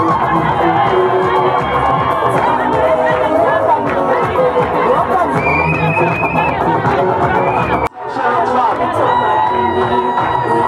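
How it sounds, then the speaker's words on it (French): A customary wedding crowd cheers, shouts and claps steadily for the bride's family, a loud continuous hubbub of many voices with a brief drop near the end before the noise resumes. "Plus d'acclamations du côté de la belle famille."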